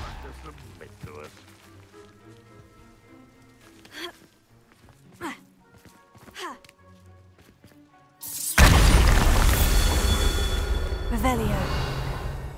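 Bombarda spell explosion in the wizarding video game Hogwarts Legacy, a sudden loud, broad blast that lingers into a noisy roar for several seconds after quieter footsteps and thuds.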